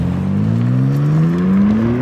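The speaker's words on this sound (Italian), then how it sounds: "vi faccio sentire anche la voce di un M3 endotermica" A BMW M3 with a combustion engine revs up steadily, its exhaust note climbing smoothly in pitch for about two seconds, loud and close with no talking.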